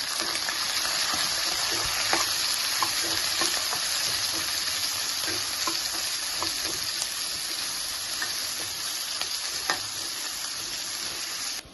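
Chopped green chillies and onions fry in a pan for a beetroot fry, a steady, even sizzle throughout with occasional small crackles and stirring scrapes.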